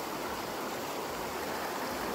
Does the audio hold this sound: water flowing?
yes